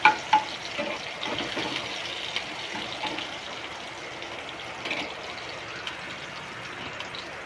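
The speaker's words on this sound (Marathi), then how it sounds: "मिरची चांगली भाजून घ्यायची" Chillies and cumin seeds roasting in hot oil give a steady, close hiss and crackle of frying, with a couple of sharp pops at the start and occasional stirring, no voices.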